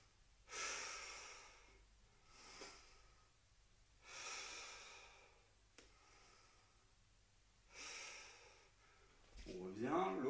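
Deep, slow breathing during lower-body lunge exercises in a circuit workout, a few long audible inhales and exhales close by, ending with a brief sound of voice.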